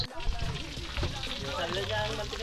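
Freshly speared fish, caught at sea, sizzles and crackles in oil in a frying pan, a steady close frying hiss while people talk nearby.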